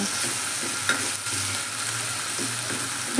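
Onion and potato frying in a pan, a steady sizzle with occasional stirring scrapes and light clinks of a utensil, close and continuous without talk.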